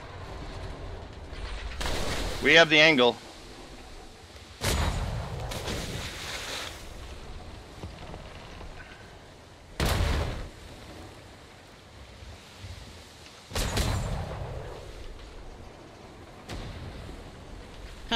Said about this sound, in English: You can hit cannons. Come on, keep firing.